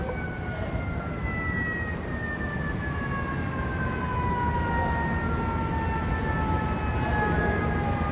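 FDNY fire engine sirens wail in the distance as units respond to an underground fire, several rising and falling tones overlapping above a constant loud roar of street and engine noise.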